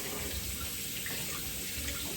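Cool tap water runs steadily from a kitchen faucet over a potato being washed clean of dirt, a continuous broadband splashing hiss with no talk.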